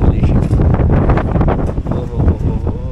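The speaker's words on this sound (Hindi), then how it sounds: "बहुत तेज़ हवा है" Strong wind at Genting Highlands, Malaysia, buffets the microphone in a constant loud rumble, with faint voices mixed into the roar.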